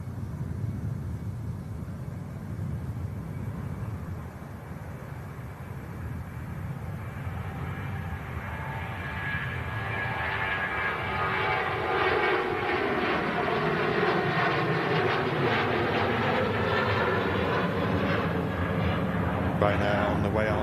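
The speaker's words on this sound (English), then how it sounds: "Nice short flight for the 737." Boeing 737 at Manchester Airport, a steady low engine rumble that builds into a louder, rising roar with whining tones as the jet powers up, heard from nearby.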